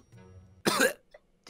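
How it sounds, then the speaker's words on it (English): A single short, sharp cough, close and fairly loud, bursts out in the middle of a VRChat session, with faint low background hum before it and a brief small vocal sound after. "Did you just cough?"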